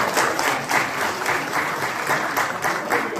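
An audience at a regional Lions Club gathering claps loudly and steadily, a dense burst of applause filling the hall.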